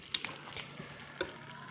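Meat with potatoes and black pepper frying and being stirred in a pan, a quiet sizzle with a couple of sharp metallic scrapes and taps from the utensil.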